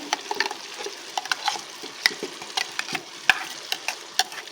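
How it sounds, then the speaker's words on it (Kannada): Ground masala being stirred into a pan of mutton biryani base with green chillies, a spoon scraping and clinking in irregular close strokes over a soft, steady sizzle. "ಈಗ ನಾನು ರುಬ್ಬಿರೋ ಮಸಾಲೆ ಕೂಡ ಹಾಕ್ಕೊಳ್ತಾ ಇದ್ದೀನಿ"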